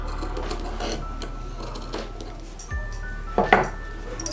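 A sewing machine stitches blouse fabric, a steady low mechanical hum running throughout with faint clinks and a brief louder rattling burst near the end; no one speaks.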